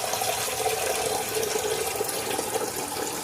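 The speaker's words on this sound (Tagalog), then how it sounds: "Lagyan na natin ng tubig yan." Water pours steadily into a pressure cooker, a continuous close splashing rush with no pauses.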